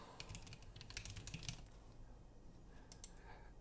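Typing on a mechanical keyboard with mixed switches, some of them low-profile, gives a quiet run of irregular key clicks. They bunch into a denser burst early on, then thin out into scattered taps.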